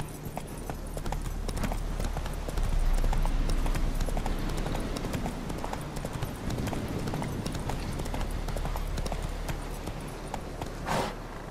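Horse hooves clip-clopping steadily in The Witcher 3, a continuous rhythmic gait over a bed of game ambience, with a brief bright burst near the end and no speech.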